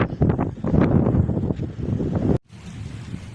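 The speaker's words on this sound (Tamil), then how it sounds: "மக்களே சரியான காற்று மக்களே செம்ம காற்று" Strong wind buffeting the microphone on top of a rock, a loud continuous roaring rush that cuts out briefly and then returns more faintly.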